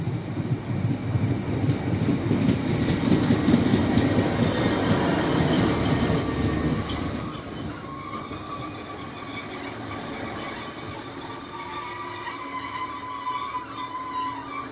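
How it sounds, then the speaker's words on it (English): A Northern passenger train departs Swinton station in South Yorkshire, its wheels squealing and rumbling loudly at first, then fading as it pulls away, leaving faint high screeches and clatter. "Starting is the 11:39 northern service to Sheffield from Doncaster."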